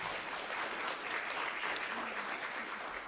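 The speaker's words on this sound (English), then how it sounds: "I think they deserve one last round of applause" Audience applause closing a congressional policy briefing on legal pathways to deep decarbonization, a steady wash of many hands clapping continuously throughout at even, moderate loudness.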